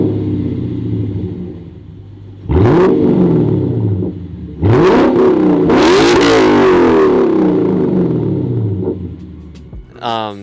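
Lexus RC F V8 with muffler and resonator delete, idling with a deep rumble and then revving hard twice, loud and close, with sharp rising and falling engine notes and a voice briefly at the end.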